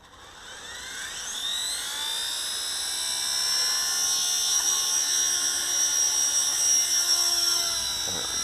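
A Heli-Max Black Hawk RC helicopter flies outdoors, its high-pitched electric whine rising and holding steady as the throttle climbs, loud and close with a constant buzzing drone.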